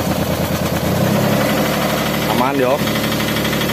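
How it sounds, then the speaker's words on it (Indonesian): A Daihatsu Xenia 1.0 engine idles steadily with a low, even mechanical hum and faint ticking, close by, while a person speaks briefly over it. "Coba dinyalain mesinnya om."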